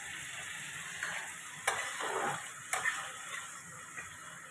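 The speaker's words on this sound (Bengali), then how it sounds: "এবার আমি অল্প একটু জল দিয়ে দিচ্ছি।" Paneer frying in a pan as a splash of water goes in, a steady sizzle with a few sharp spitting bursts and soft stirring scrapes, close and moderately loud.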